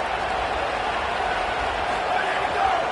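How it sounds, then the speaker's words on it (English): A packed college football stadium crowd at an NDSU vs Arizona game roars steadily on third down, a dense, unbroken wash of noise with a commentator talking over it. "Here comes the noise of this crowd doing everything they can to help the defense bear down on third down"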